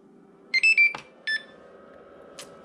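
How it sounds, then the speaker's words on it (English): Several short electronic beeps from a Traxxas EZ Peak Dual ID battery charger: a quick cluster of high tones, a pause, another beep, then a faint final blip, over a low steady hum. "hold down the start button until it beeps"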